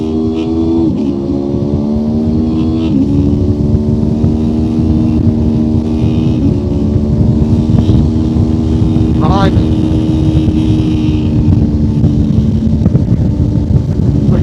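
Onboard at the Nürburgring Nordschleife, the engine of a 1999 Honda VFR motorcycle drones loud and close under heavy wind rush, its pitch rising and shifting through gear changes as the lap goes on.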